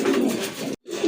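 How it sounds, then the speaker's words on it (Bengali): A Nat pigeon offered for sale gives a close, soft, throaty coo, one brief call followed by a short pause and a second coo. "খুবই সুন্দর একটা নট কবুতর"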